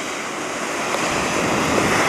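Water pours steadily through the overflow into Möhnesee lake, a continuous broadband rush that stays loud and even throughout with no talk.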